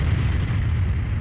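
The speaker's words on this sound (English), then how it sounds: "What the... An explosion? It came from where I was before." A video game explosion fills the moment with a loud, continuous low rumble and roar, close and dense, with no voices over it.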